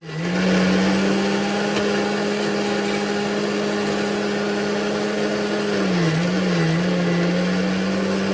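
A mixer grinder grinding spices whirs steadily and loudly at close range, its motor tone holding constant before wavering briefly near the end.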